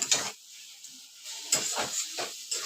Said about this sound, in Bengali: এবার নাড়াচাড়া করে 5 মিনিট মশলাটার সঙ্গে মাছটা আমি ভালো করে মিশিয়ে নিলাম